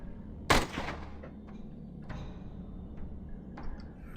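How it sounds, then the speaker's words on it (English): A single loud gunshot rings out in the Shadowrun Chronicles: Boston Lockdown video game, followed by a few fainter shots or impacts trailing off over several seconds. "I'm going to have to shoot."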